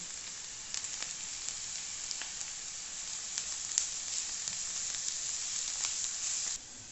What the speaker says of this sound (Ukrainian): Поки цибуля з морквою смажиться